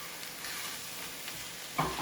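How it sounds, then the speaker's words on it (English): Turkey stirred in a hot pan, a faint continuous sizzle with soft scraping strokes and a brief louder clatter near the end. "stir that turkey through so it's all completely mixed"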